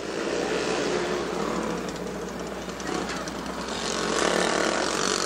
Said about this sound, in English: Go-karts